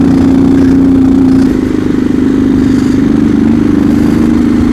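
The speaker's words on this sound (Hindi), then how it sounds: "बाइक की साउंड सबको भाई अट्रैक्ट कर रही है।" A motorcycle engine runs loud and steady as the bike rides up and down a hillside road, holding a constant low drone with no voices.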